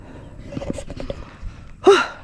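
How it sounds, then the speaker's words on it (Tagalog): A man breathes heavily, out of breath after a climb at Biniyak na Bato in Batangas City. Soft, uneven breaths come close to the microphone, then one loud, sharp gasping inhale near the end. "Medyo hingal nga lang ako."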